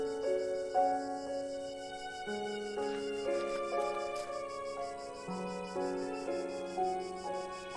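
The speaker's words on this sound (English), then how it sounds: "Can you hear that sound in the background like cicadas or crickets?" Crickets or cicadas chirp steadily in the background of the video game The Last Door 3, a faint continuous insect drone running beneath sustained tonal music with no talk.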